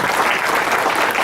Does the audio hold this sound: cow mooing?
no